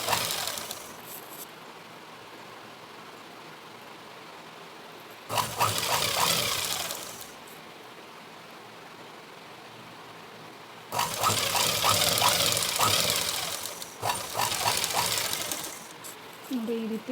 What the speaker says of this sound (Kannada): ನೋಡಿ ಈ ರೀತಿ ಡಬಲ್ ಸ್ಟಿಚ್ ಹಾಕಬೇಕು